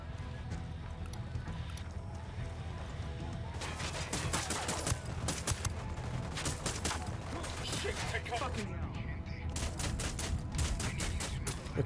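Gunfire in Ghost Recon Wildlands: a steady stream of sharp shots over the game's ambient noise, growing thicker in the second half, while a voice talks faintly underneath.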